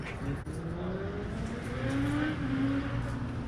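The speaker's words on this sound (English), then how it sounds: "I heard a motorcycle aggressively exiting the freeway." A motorcycle accelerating hard off a freeway exit, its rising engine whine swelling steadily and holding loud and fairly close throughout, with continuous road-traffic rumble beneath it.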